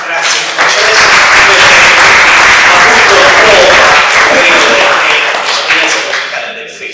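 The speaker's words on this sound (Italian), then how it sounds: "un grande veramente applauso a loro per aver portato una bellissima testimonianza musicale" Dense, loud applause from a conference audience fills the hall, a steady wash of clapping that builds quickly and holds before tapering off near the end.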